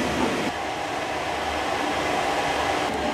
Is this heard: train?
yes